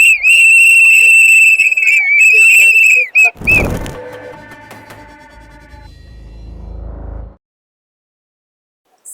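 Whistles are blown long and shrill in a loud, sustained, slightly wavering blast that cuts off abruptly. A burst of noise and a lower, fading resonant tone follow before near silence.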